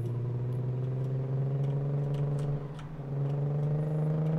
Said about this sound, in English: this car sounds like garbage.